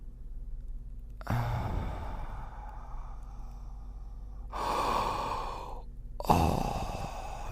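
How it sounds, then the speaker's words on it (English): Heavy breaths blown close into a handheld recorder, three long rushing exhalations with short pauses between, loud and breathy with no talking. "This is what it sounds like when I breathe heavy into this handheld device."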